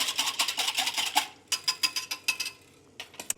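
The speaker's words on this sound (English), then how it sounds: "And then I'm just going to whisk that together." A sauce mixture with pepper is whisked briskly in a bowl, giving a close, rapid run of rhythmic metallic scraping strokes that pause briefly and then resume, with no talk.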